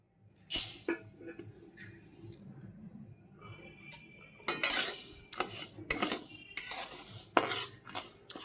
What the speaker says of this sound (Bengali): কড়াই গরম হয়ে গেছে আমি প্রথমে ডালটাকে একটু ভেজে নেবো